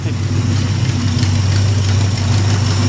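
A 1973 Plymouth Scamp's engine runs close and loud, a heavy, steady low rumble with a faint rise in revs.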